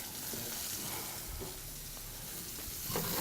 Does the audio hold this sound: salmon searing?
yes